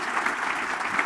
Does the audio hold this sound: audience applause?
yes